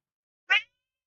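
A single short cat meow, close and clear, standing alone in otherwise silent surroundings.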